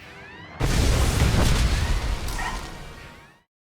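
Heavy weapons fire and explosions erupt in a Star Wars: The Old Republic battle, a sudden loud boom followed by rumbling blasts and crackle that gradually fade into silence.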